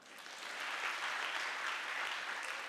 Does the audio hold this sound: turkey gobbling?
no